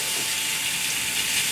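Ahi tuna steak sears in a hot pan with a steady, close, broadband sizzle and hiss, constant and unbroken with no talking.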